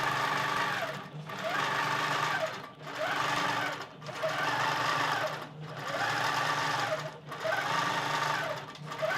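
A longarm quilting machine stitches a quilt with a steady, close mechanical whir, pulsing in long even cycles with brief dips between passes, and no talking.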